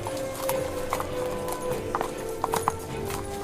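Hooves of a horse drawing a carriage clip-clop along a road toward a city gate in an Elder Scrolls tabletop setting, a steady trotting run of close, distinct clops over a low ambient bed.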